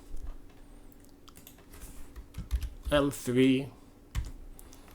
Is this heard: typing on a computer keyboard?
yes